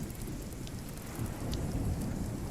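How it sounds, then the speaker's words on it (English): Thunderstorm rain in the video game RuneScape: Dragonwilds, a steady dense hiss of falling rain with a low rumbling undertone that swells slightly toward the end, no voices. "Let's just get out of this storm here"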